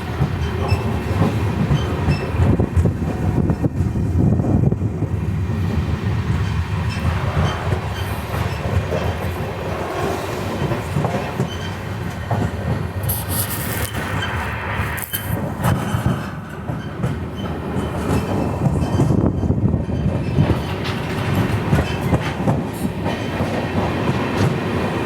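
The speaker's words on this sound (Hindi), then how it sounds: "लूप लाइन से हमारी ट्रेन स्किप कर रही है अक्कलकोट रोड" The Mumbai Hyderabad SF Express rolls along a loop line past Akkalkot Road with a loud, continuous rumble and rattle of carriages, a clickety-clack of wheels over the joints and occasional squeals.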